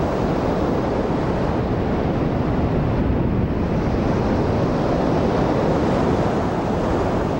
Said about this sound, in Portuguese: O pior deles é a tsunami,